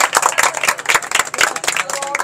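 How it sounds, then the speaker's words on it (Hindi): A crowd at an egg-eating food challenge claps steadily, a dense, loud patter of many hands close by, with a voice speaking over it. "ताली लगाएं जरा एक दफा"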